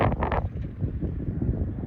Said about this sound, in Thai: อย่างเดียววันนี้ลมแรงมากไปหน่อยครับ